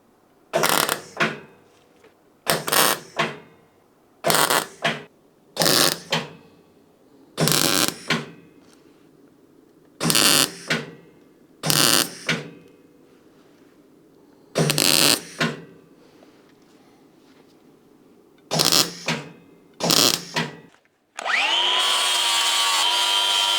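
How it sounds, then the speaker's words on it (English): Rusty sheet metal on an Opel Ascona car body is cut with a power tool in about ten loud, separate bursts of a second or so each, with quiet pauses between them, then a steady high whine at the end. "I'm gonna cut this off now because I know it follows the contour"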